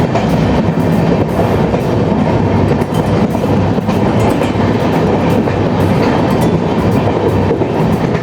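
Heard from onboard, a passenger train runs through the hills of Mizoram with a steady, loud rumbling roar and faint clickety-clack of wheels, unbroken throughout with no voices.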